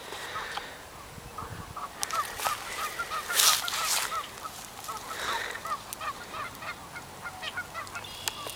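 Geese honk repeatedly at a fishing spot, a flock calling in overlapping bursts at moderate distance, with a louder cluster midway through and a steady outdoor background.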